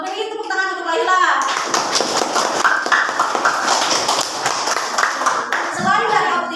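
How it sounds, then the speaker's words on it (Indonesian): Classroom applause for a student during an Islamic education lesson, a steady burst of many hands clapping for several seconds, preceded and followed by a teacher's voice. "Beri tepuk tangan untuk Laila."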